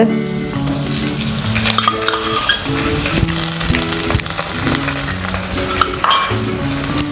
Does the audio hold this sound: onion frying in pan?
yes